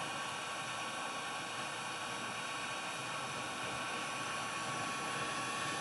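A heat gun blows hot air steadily onto solder sleeves over wires, a constant, even hiss of airflow with no breaks.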